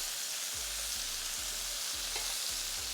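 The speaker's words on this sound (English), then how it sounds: "It's time to flip over our steak." Garlic butter steak bites sizzle steadily in a hot pan, a dense continuous frying hiss, with soft low thumps every half second or so as the pieces are flipped over.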